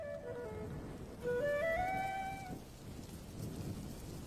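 Steady rain patters throughout, with a low rumble underneath and a faint tonal whistle rising and falling in the first half; no voices.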